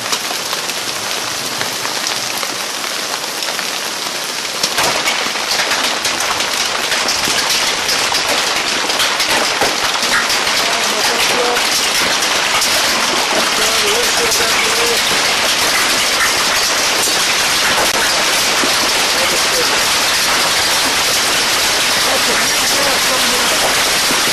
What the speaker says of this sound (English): We're getting hail again.